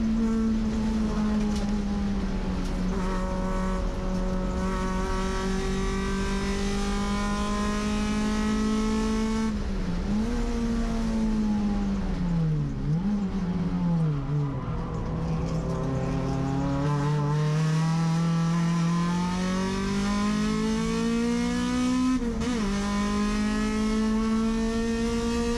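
A touring race car at Sonoma Raceway holds a loud, steady engine note that rises and dips through short-shifted gear changes, continuous and close throughout.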